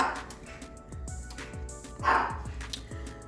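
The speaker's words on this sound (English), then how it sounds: "Sorry for the dog" A dog barks indoors in a home kitchen where steak and potatoes are being cooked; several sharp barks, one louder burst in the middle, over a steady background hiss.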